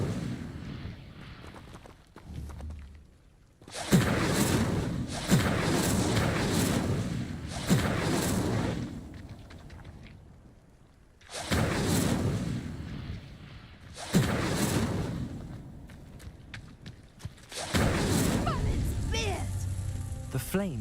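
An Incendio fire spell in Hogwarts Legacy sets a pile burning, producing repeated whooshing, roaring bursts of flame separated by quieter gaps, with a voice speaking in between.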